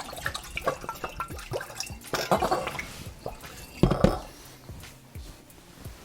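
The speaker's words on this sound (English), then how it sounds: "We are going to add a little bit of water so the honey can start to dissolve." Water drips and splashes in uneven bursts through a sanitized funnel into a container, with gurgling pours and small hollow clinks, close up and fairly quiet.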